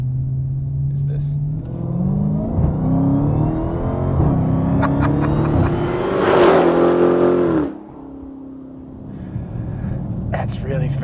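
A Dodge Challenger accelerating hard through the gears, loud engine note rising in pitch with each gear, a brief shift drop, then a sharp cutoff into a lower idle rumble; a voice speaks over the engine.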